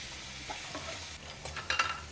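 Onions frying in a little oil in a pan for a spicy chilli pasta, a soft close sizzle with stirring scrapes and a few louder crackles near the end, no talking.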